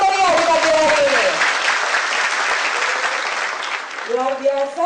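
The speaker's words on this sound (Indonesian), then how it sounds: "saya minta semuanya tepuk tangan yang meriah di pagi hari ini" Audience applause at a morning event in Indonesia: a loud burst of clapping from a crowd that swells and fades over a few seconds, with a voice talking just before and just after.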